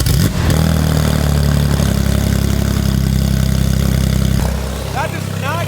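A Porsche GT3 RS engine runs loud and close, holding a steady rev with a drop in pitch near the end, while a voice speaks briefly over it.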